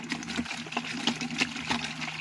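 Strong water from a tap at a river or beach washing spot gushes steadily, with a bright splashing hiss and a low resonant hum underneath.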